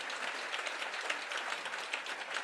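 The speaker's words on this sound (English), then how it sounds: "Shall we give Rayne yet another round of applause" Steady audience applause at a talk event, dense clapping from a moderate-sized crowd, even and continuous, somewhat distant.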